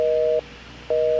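A telephone busy signal on a mobile line: two steady tone bursts separated by a short silent gap, clear and alone with a faint background hiss.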